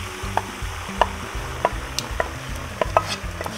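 Cheese sauce being stirred into drained macaroni in a pot, wet squelching scrapes with a series of sharp spoon knocks roughly every half second, close and moderately loud.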